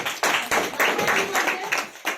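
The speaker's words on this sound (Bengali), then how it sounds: "big clapping" Sharp hand claps repeat in a quick, steady rhythm, roughly eight close, loud bursts in a row.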